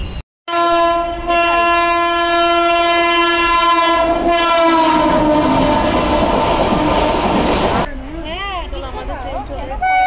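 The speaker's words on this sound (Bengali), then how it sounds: "আমাদের ট্রেন চলে এসেছে, এখন যাই ট্রেনে করে।" Passenger train pulling into a station with a long, loud, steady horn blast lasting several seconds over rumbling wheels and carriage noise, then the horn stops and rolling rail sounds continue as the train arrives.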